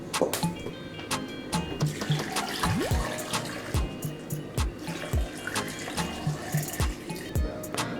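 Water poured into a blender over peeled, chopped mango, carrot and ginger for homemade juice, a steady splashing pour running throughout with small knocks and clinks, close and moderately loud.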